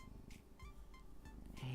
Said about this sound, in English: you guys can hear the purring?